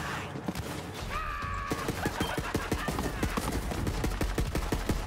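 Gunfire in the video game Borderlands 3: a rapid series of sharp shots in quick bursts, moderately loud, with a short electronic tone early on and some background game noise.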